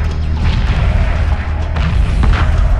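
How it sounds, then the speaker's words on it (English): Heavy booming explosions from the video game Homeworld Remastered rumble continuously and loudly, deep low-end blasts overlapping one another without pause. "I love the explosion sound effects"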